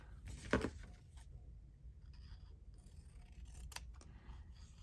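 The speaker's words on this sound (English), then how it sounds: "I'm going to trim the top bit off." Scissors trim the top off a piece of scrap paper in a quiet craft session, giving a few faint, close snips with a light rustle between them.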